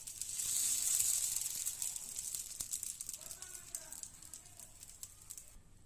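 Amboli, a thin rice-batter pancake, sizzles on a hot pan while its second side roasts. A close, steady frying hiss swells early, then eases slightly, with no talk.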